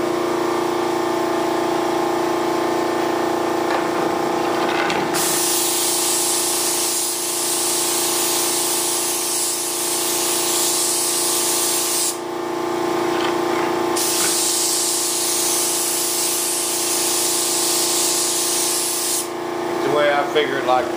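Spray gun spraying mold release, a loud close continuous hiss in two long bursts with short pauses between them, over a steady motor hum.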